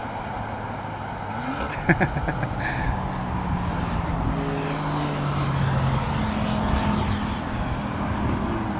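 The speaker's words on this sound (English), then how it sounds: "Royal Dutch Airlines and another big engined aeroplane, man" A big-engined KLM jet airliner roars steadily overhead, a broad loud engine rumble with a slowly shifting whine that sweeps through the sound, accompanied by a couple of sharp clicks early on.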